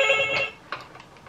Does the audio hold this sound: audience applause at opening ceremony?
no